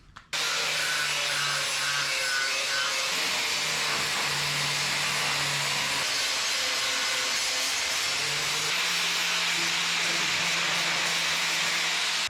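A flap disc on an angle grinder cleans up cut metal edges on a custom suspension control arm for a 1961 Chevrolet Parkwood wagon. The grinding is a loud, continuous, steady rasping whine that runs unbroken from start to finish, with no talking.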